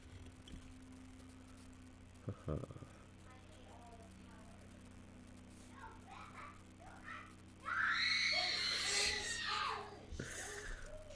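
A young child lets out a loud, shrill, sustained scream lasting a couple of seconds near the end, in a quiet home setting during a miniature-building livestream. Softer child vocalizing and a few clunks come earlier.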